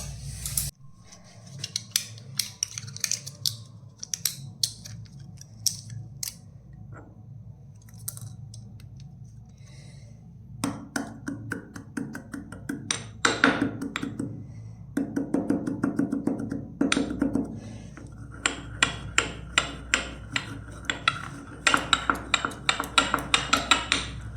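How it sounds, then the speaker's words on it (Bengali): A medicine tablet is crushed into fine powder with the back of a spoon, a quiet run of irregular scraping and clicking taps that grows busier and more rhythmic toward the end. "এবার এটাকে এই যে চামচের পেছনটা দিয়ে ওঠাবো উঠিয়ে ওষুধটাকে গুঁড়ো করে নিতে হবে"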